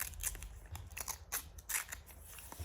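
Scissors snipping a small piece of paper in two, several crisp close cuts in an irregular rhythm with faint paper crackle between them and no talk.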